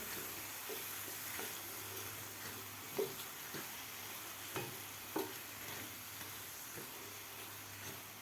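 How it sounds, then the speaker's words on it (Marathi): Grated carrot with jaggery is stirred in a pan, giving a faint, low sizzle under steady background hiss, with a few soft scraping knocks from the spoon at irregular intervals. "आता व्यवस्थित आपल्याला हे हलवून घ्यायचं आहे"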